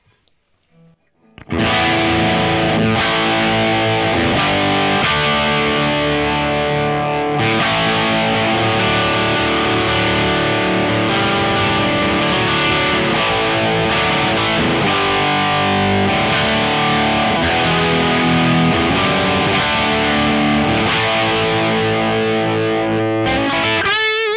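Heavily distorted electric guitar through a Kemper profiler, recorded direct, plays sustained chords and riffs, loud and dense, after a short quiet start.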